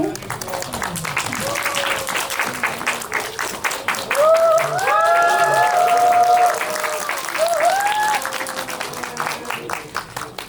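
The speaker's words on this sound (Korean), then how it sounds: "큰 박수와 환호 부탁드립니다." A cinema audience at a stage greeting for the film Sleep claps loudly and steadily, with high whoops and cheers rising over the applause midway through.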